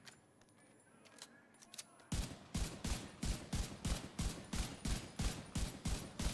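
Rapid M1A rifle fire in the video game Division 2, a quiet lead-in followed by a steady run of about a dozen loud, evenly spaced shots.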